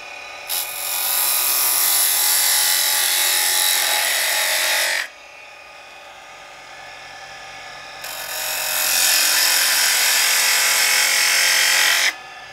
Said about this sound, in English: Now I'm going to take my parting tool and define the ends of my honey dipper.